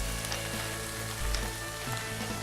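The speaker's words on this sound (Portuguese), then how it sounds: "Vamos grelhar, então, os filés de peixe." Fish fillets grilling in olive oil in a pan, a close, steady sizzle and crackle throughout with no talk.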